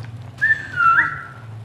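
A person whistles while playing the game Defiance: a short rising note followed by a longer wavering tone, fairly close and clear over a low steady hum.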